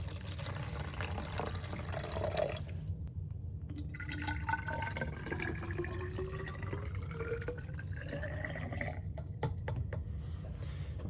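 Water poured steadily from one container into another, about 200 milliliters, with the filling tone rising in pitch as the vessel fills over several seconds, close and clear with no talking.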